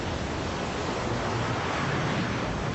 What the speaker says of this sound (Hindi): लहरें ऊंची होती जा रही